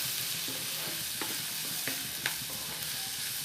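Onions fry in a pan with a low, even sizzle as turmeric is stirred in, and a few soft scrapes and taps from the spoon come through.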